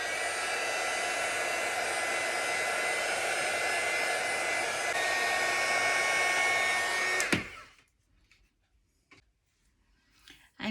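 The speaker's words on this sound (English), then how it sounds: "Now I use the heat tool and I give it a little dry." A heat tool blows a steady, loud, whooshing drone while drying paint on a card-crafting sunflower piece, running for several seconds before cutting off abruptly, followed by a few faint clicks and handling noises.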